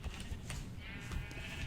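Minecraft sheep bleat softly from above, with a couple of short wavering baas heard faintly against low, rumbling in-game ambience.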